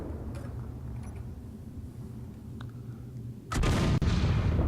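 A large ship-mounted weapon turret in a video game fires after a quiet low hum, bursting into a loud, sustained roaring blast with a sharp crack partway through.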